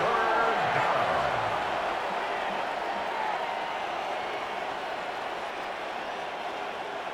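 A stadium crowd roars in the video game Madden 26 during a Lions at Packers matchup. The broad, steady rumble is loudest at the start and eases slightly as it carries on.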